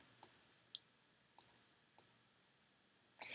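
Sharp computer mouse clicks while editing hair edges in photo software, five distinct taps spaced irregularly over a quiet background, close and fairly soft.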